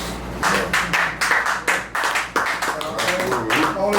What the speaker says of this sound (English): Who started that slow hand clap?